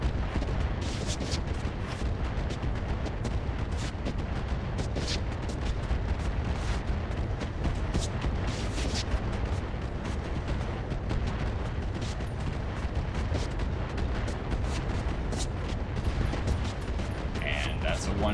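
Mech weapons, including autocannon fire, in the Battletech Roguetech video game, a dense, continuous barrage of booming shots and explosions that runs throughout, loud and close.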